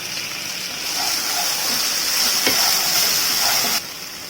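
Ginger garlic paste sizzles and fries in a pan for an Indian chutney, a steady close hiss with faint stirring clicks, ending with a sudden drop as the heat or stirring changes.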